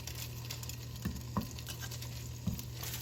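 Food cooking in about two tablespoons of regular olive oil for turkey beef stroganoff, a soft steady sizzle and patter with a few brief louder crackles or stirring knocks, close and fairly quiet.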